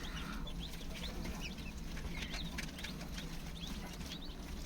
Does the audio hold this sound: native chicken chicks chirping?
yes